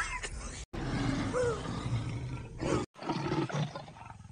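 A lion in a film lets out loud, deep roars broken by brief silent cuts, the growling sustained and close over a busy soundtrack.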